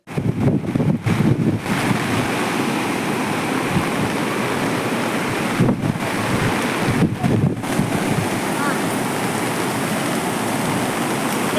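Floodwater rushes around a bus stranded in a stream at an overflowing tank near Venkatapuram, a loud, steady roar with wind buffeting the microphone throughout.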